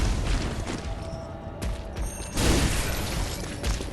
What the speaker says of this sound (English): And so we get hit even by the explosion near it.